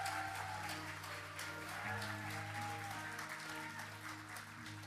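Warm applause from a church congregation, a steady wash of clapping that carries throughout at moderate volume over a low sustained background hum.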